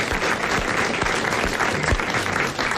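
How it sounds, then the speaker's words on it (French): A studio audience on a 1985 French television game show claps steadily, a dense, sustained wash of applause that stays loud throughout with no voices standing out. "vous applaudissez Monsieur Marandon de Grande-Sainte"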